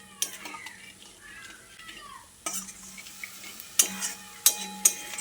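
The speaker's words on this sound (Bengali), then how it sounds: "এবার গুঁড়ো মশলাটা দিয়ে আবারও সব কিছুকে একসঙ্গে ভালো করে কষিয়ে নেব কিছুক্ষণ।" Ground spice masala fries with vegetables for an aloo potol curry, a light sizzle under repeated clinks and scrapes of a utensil stirring against the pan, with a few sharper knocks toward the end.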